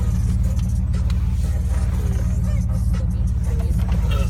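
A 2002 Jeep TJ Wrangler with a 4.0L engine and Magna-pack exhaust drives along, its exhaust a steady low rumble with even pulses, heard from close by with faint voices underneath.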